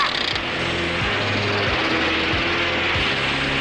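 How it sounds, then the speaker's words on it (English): A cartoon drilling machine boring into hard rock gives a steady, loud mechanical grind with repeated low clunks and a rattling, ratchet-like churn running throughout. "My drilling machine is unstoppable."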